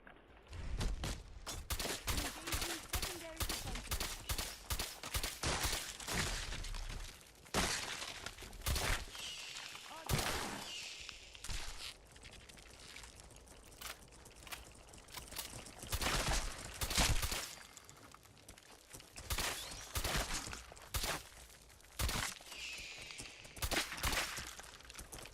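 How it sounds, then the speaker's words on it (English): Rapid shotgun blasts fill a first-person video game firefight, with dense bursts of loud, sharp reports and breaking, shattering impacts packed closely together throughout. "Shotguns to the face work very well sometimes."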